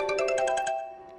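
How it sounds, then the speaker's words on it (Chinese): A mobile phone ringtone plays a short, bright plucked-string melody, a quick run of repeated notes that then fades, heard alone and fairly close. "资方爸爸又来电话了"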